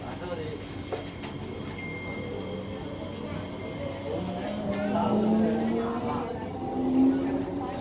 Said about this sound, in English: Doors, train moving. I heard the B motor.